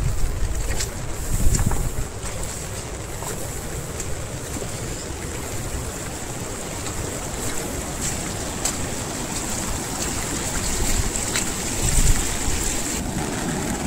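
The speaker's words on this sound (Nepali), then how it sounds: "यो नदी यो खोलाको मूल पानी हो यो" A river swollen after heavy rainfall rushes steadily, a dense continuous roar of flowing water with wind buffeting the microphone, loud and unbroken throughout.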